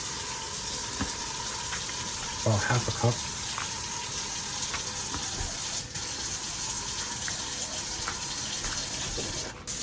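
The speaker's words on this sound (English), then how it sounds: "I'm gonna add a little bit more water just so that I can cook down the potatoes a bit." Water pours from a tap into a cooking pot of potatoes, a brief gushing splash of a few seconds under low kitchen noise, with a voice speaking briefly.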